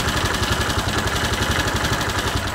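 A Bennche 500 engine with a knocking, smoking fault idles close by, a loud, steady mechanical rumble with a fast, regular pulsing throb.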